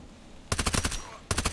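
Gunfire in the video game Contract Wars comes as two close, loud bursts of rapid shots separated by a short pause, with no talk over it.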